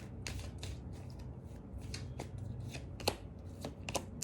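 Tarot cards shuffled continuously, a steady papery riffle and rustle with a few sharper snaps, close and fairly quiet with no talk.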